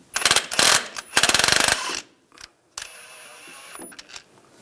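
A ratcheting wrench works the crankshaft pulley bolt on a 2007-2014 Cadillac Escalade 6.2L V8, close and loud, with two quick bursts of rapid clicking followed by a single sharp clack and a quieter mechanical whir.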